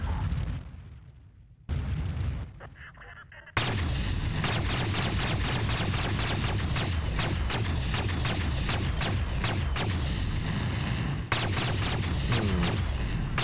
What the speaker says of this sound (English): The plasma cannon.